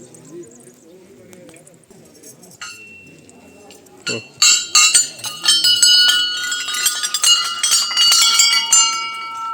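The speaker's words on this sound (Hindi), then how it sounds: "ये सब चढ़ाई हुई घंटियाँ हैं" Offered bells at a Himalayan hill temple in Almora ring out in a burst of overlapping metallic clangs and clinks after a quieter start, close and loud, with a person speaking over the early part.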